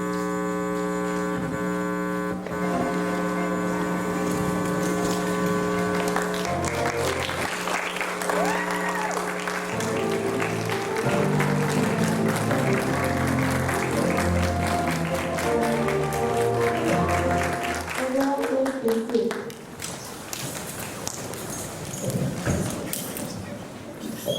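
Standing audience at a model UN general assembly claps along under sustained, tonal music, steady and moderately loud. Near the end the music drops away and the sound thins out.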